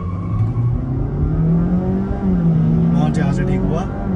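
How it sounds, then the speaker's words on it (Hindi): Honda City, a hybrid eCVT or petrol manual, accelerating hard at full throttle, a steady, loud engine drone with rising tones that stays close throughout, while people talk over it. "एक्सीलेटर पूरा देना"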